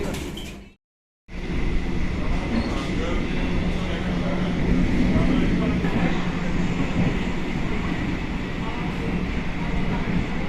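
Steady rumble and clatter inside a moving Senja Utama passenger carriage travelling from Pasar Senen toward Yogyakarta, loud and continuous after a brief dropout at the start, with faint voices mixed into the noise.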